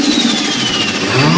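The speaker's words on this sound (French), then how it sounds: "c'est grâce à la blower valve qu'on entend ce magnifique" An Infiniti G35 engine with a blow-off valve runs loud and steady throughout, a continuous mechanical roar with a faint whistling tone sweeping down and no voices.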